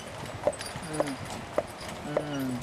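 Steady clip-clop of a horse pulling a buggy, several evenly spaced hoofbeats, with a few voices talking in the background.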